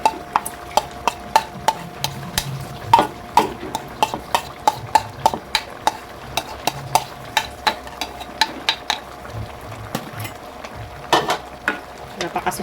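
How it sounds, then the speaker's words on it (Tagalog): Malunggay leaves are stirred into a pot of cooking liddeg, giving a steady series of close, sharp scraping clicks from a utensil against the pot over a faint bubbling bed, with no one talking. "Ilagay na natin mga mi itong ating malunggay na dahon."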